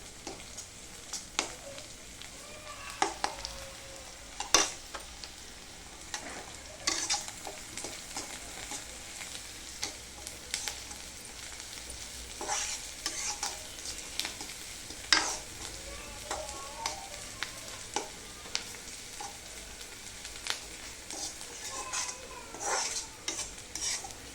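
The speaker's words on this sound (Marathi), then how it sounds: "आता कांद्याला लालसर रंग येऊपर्यंत आपल्याला परतून घ्यायचं आहे" Chopped onion and crushed garlic sauté in a pan toward a reddish colour for a bombil chutney: a continuous close sizzle with frequent spatula scrapes and light clinks against the pan, no voices.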